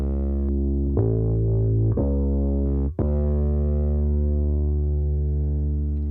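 A thick, sustained distorted bass note rings out, with a few short plucked attacks early on, then one long held tone that slowly fades.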